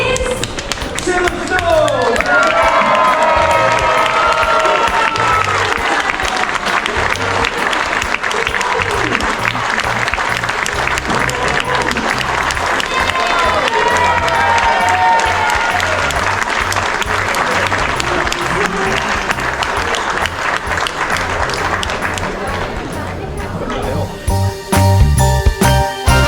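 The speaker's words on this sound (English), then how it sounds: "Stop those feet, clap those hands." Sustained applause fills a lounge aboard the P&O Iona cruise ship for the winner of a Christmas decorating display competition. Clapping runs for a long stretch, mixed with crowd noise, voices and tonal music, and ends with a few scattered taps.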